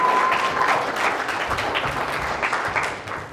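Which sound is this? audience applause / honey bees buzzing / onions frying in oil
audience applause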